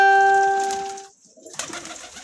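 Pigeons at a rooftop sale in Nabha, Patiala district, Punjab: a close, sustained, steady coo that fades out, followed by quieter background noise.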